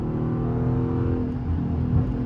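A Dodge 392 Scat Pack V8 accelerates on a busy freeway, a loud steady low engine drone with rising rumble, heard from inside the car and with no talk.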